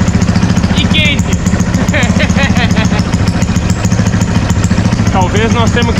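A water-cooled Titan 150 motorcycle engine fitted in a mini boat runs at a steady, loud idle with a dense low throb, while people talk over it throughout.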